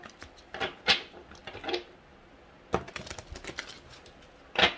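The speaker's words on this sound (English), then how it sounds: "One last shuffle." Tarot cards being shuffled in sharp, papery bursts, a few quick riffles and taps spaced apart with quiet gaps between, close and fairly soft.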